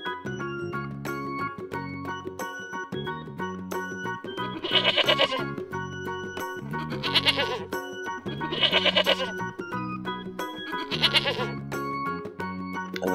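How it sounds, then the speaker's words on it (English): A male sheep, a ram, bleats four times in wavering, nasal calls spaced a couple of seconds apart. The calls sit over a steady, busy musical backing and stand out clearly in the foreground. "Male sheep known as ram."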